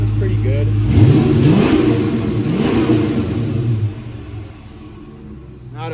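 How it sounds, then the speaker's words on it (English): A 2014 Dodge Charger Police Pursuit with a 5.7L Hemi V8, AWD and a K&N intake is revved a couple of times up close with the hood open, rising growls that settle back to a rumbling idle. "I'll give it a little rev too so you can hear it."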